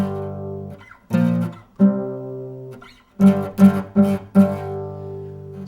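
Guitar power chord riff, a handful of distinct chord hits with gaps between them, then a quicker cluster of four stabs, clean and close with nothing else audible.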